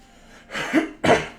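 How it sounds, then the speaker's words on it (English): Two short, harsh coughs from a person recovering from the flu, close to the microphone and loud in an otherwise quiet room. "Sorry if you guys hear me coughing."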